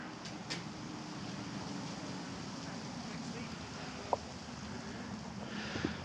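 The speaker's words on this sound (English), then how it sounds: "That's a big river. That's a lot of water." A broad, steady rush of a fast-flowing Yukon river fills the background at a moderate distance, with a couple of faint clicks over it.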